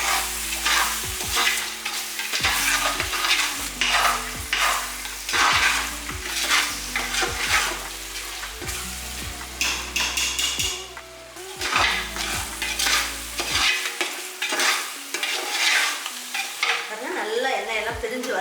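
Ginger garlic paste with green chillies and mint frying in oil in a pan, a soft steady sizzle punctuated by repeated sharp scrapes and clinks of a spoon stirring against the metal, close and alone without talk.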